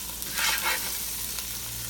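Butter, two tablespoons, melting in a hot pan as the base for Tuscan salmon, giving a steady close sizzle with a brief louder crackle early on, no voices.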